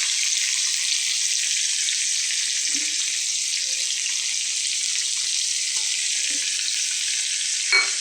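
Cauliflower for chilli cauliflower, salted, is stir-fried in a pan with a steady, even hiss of sizzling oil throughout and occasional faint scrapes and clinks from the stirring utensil near the end.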